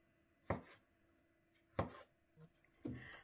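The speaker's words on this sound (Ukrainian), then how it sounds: "Маслини теж нарізаємо кружальцями." A knife cuts olives into rings on a board in a home kitchen: three separate crisp chops spaced about a second apart, close and quiet, with no talk.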